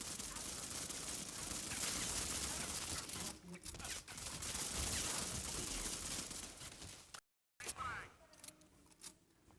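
Rapid bursts of gunfire from a weapon being tested in the mobile shooter Modern Combat 5, loud and dense for about seven seconds, then a brief dropout and a few scattered shots and clicks.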